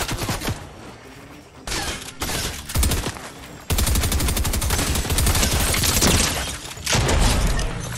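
Automatic gunfire from a shooter video game on a PS5, loud, sustained bursts of rapid shots with brief pauses between volleys and no talking.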